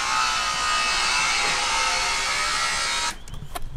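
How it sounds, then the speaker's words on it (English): Loud steady whining buzz of power-tool construction noise from a house being built next door, running continuously before cutting off abruptly near the end, followed by a few faint knocks. "Like someone's building a house next door."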